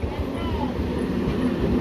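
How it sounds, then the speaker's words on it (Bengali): A train passes nearby with a low, continuous rumble and rolling rail noise, while voices sound faintly in the background. "ট্রেন দেখেছো?"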